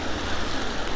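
Steady, dense hiss of rain falling outdoors during an e-bike review, loud and continuous with a broad wash of noise and faint rumble, no voices.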